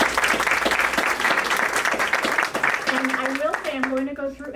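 Applause from an audience at a health center clinic opening, dense clapping lasting a few seconds before it fades, with a voice coming in near the end.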